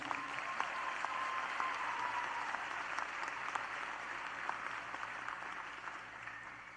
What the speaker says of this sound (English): Let's give our faculty and staff a round of applause, please.